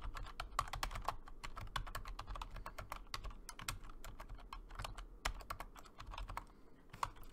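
Code is typed on a computer keyboard in quick, uneven runs of close clicking keystrokes, steady and alone with no talk.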